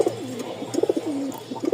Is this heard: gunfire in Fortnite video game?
no